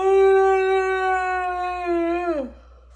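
A dog gives one long, steady, close howl that holds its pitch before bending downward and breaking off near the end, clear and alone in a quiet room.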